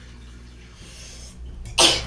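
A single sharp sneeze bursts out near the end after a quiet stretch of low background hum, during beach metal detecting in New Jersey.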